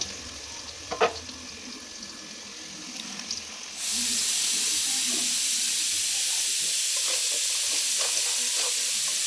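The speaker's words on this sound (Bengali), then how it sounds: "এখন এটাকে ভালো করে নেড়ে চেড়ে ভালো মতো লাল লাল করে ভেজে নেব" Potatoes frying in hot oil with salt and turmeric, stirred in the pan: a few scrapes and clinks, then a loud, steady sizzle bursts in and holds, with occasional spatula scrapes over the hiss.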